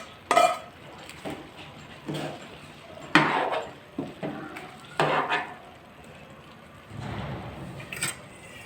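A spoon stirring garam masala into rice in a pot during pulao cooking gives scattered scraping clinks and soft knocks against the metal. The strokes come in short separate bursts, up close and fairly quiet.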